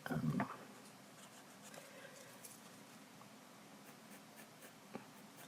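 Pencil sketching on paper, with a soft, faint scratching of graphite strokes that starts with a brief louder burst of scribbling and then continues quietly and steadily.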